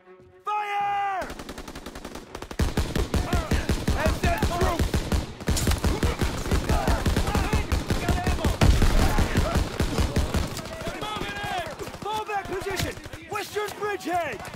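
Heavy World War II battlefield gunfire from Call of Duty, with dense bursts of rapid rifle and machine-gun shots rattling almost without pause, loud and close, while soldiers shout over the din.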